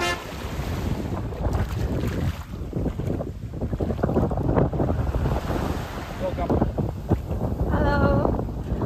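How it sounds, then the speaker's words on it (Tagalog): Strong wind buffets the microphone on an island beach resort at Cauayan Island, El Nido, Palawan, a constant loud rumbling gust with surf behind it. "Lakas ng hangin."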